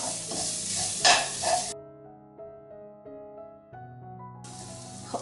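Tomato paste stirred into a sizzling pot for red lentil dal, with loud frying hiss and scraping that give way to a quieter stretch of tonal sound in the middle before the sizzle returns.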